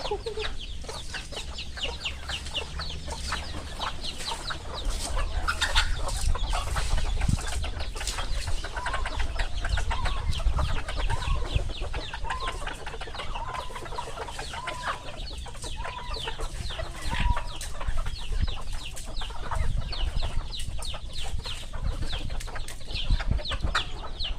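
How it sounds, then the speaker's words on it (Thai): A flock of chickens clucks busily as they gather to be fed, many overlapping clucks and squawks near and around, with occasional rooster-like calls and constant scratching activity. "ตอนนี้น้องไก่เขาก็มาคอยกันเยอะแล้ว"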